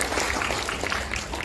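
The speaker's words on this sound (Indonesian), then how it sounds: "Tepuk tangan buat kita semuanya." Applause from a university faculty audience at a welcoming ceremony, a dense, steady wash of clapping sustained evenly throughout.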